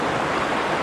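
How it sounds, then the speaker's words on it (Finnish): Steady rushing flow of a river where two rivers join in a single channel near Lemmenjoki, a constant close-up hiss of moving water with no other sounds. "tuolta tulee toinen joki ja sitten tuolta tulee se toinen joki ja ne menee tossa samaa uomaa"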